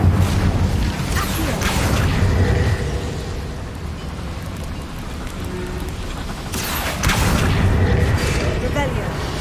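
An Incendio fire spell is cast in Hogwarts Legacy, a rushing fiery whoosh with booming rumble at the start, a sustained roaring bed in between, and a second flaring burst later, under spoken game dialogue.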